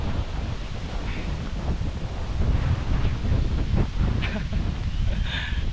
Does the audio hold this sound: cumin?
no